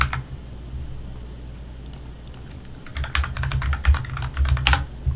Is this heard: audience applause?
no